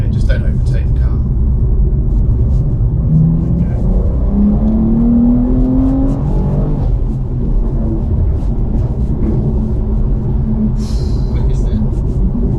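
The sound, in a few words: supercar accelerating on road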